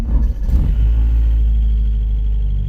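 A Porsche 944 engine catches and runs, a loud steady low rumble near the microphone after a brief rough start, with no talk over it.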